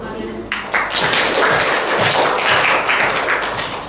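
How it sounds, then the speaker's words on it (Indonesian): Students in a classroom clap together in dense, steady applause that starts abruptly after a short pause and holds loud until the end, with some voices mixed in. "Tepuk tangan untuk kalian semua."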